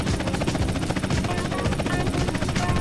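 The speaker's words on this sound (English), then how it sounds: "while I do this boring chopper checkpoint race" In Grand Theft Auto: San Andreas, a helicopter in a checkpoint race gives off a loud, steady, rapid rotor chop that fills the whole short stretch without a break.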